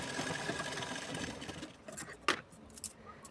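A sewing machine stitching blouse fabric runs in a steady mechanical whir, then slows and stops, leaving a few brief clicks and knocks close by.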